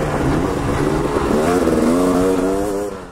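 A dirt bike engine, ridden alongside a KTM and a Honda CR250R, revs loud and close in a sustained rising and falling roar with a rattling two-stroke edge, tailing off at the end.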